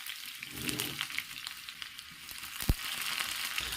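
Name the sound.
shallots and curry leaves frying in coconut oil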